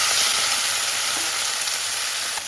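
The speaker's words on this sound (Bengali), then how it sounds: "একটু ক্যাপসিকামটা ভেজে নিচ্ছি" Capsicum and tomato fry in a pan for chhanar dalna, giving a steady, dense sizzle that holds evenly throughout, close and fairly loud, with no voices.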